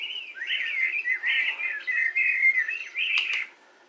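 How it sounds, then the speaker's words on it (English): Small birds chirp and trill in quick, high twittering phrases, fairly close and steady, ending with a sharp call before fading to quiet. "Some little birds chirping."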